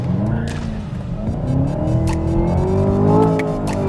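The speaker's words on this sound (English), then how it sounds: "acceleration on the limiter!" A 2018 Chevrolet Camaro ZL1 engine screams at high revs, bouncing against its limiter in repeated rising and cutting bursts, loud and close, with tires squealing briefly.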